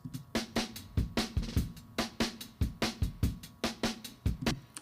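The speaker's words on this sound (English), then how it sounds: "with the overhead mic we now have this." A drum kit plays a steady groove through an overhead microphone, crisp cymbal and snare hits ringing over a lighter low thump, recreating a song's drum sound, no voices.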